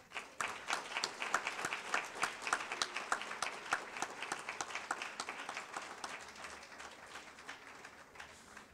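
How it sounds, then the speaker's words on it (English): Conference audience applauding at a community health worker event, many hands clapping in a dense, even patter that holds steady then slowly thins and softens, heard alone without talk. "I want to please give a round of applause"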